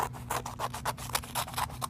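Scissors trimming the loose ends off a woven piece, a steady run of about eight crisp snipping cuts in a quick even rhythm, close and clear with no talking.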